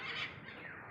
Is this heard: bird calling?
yes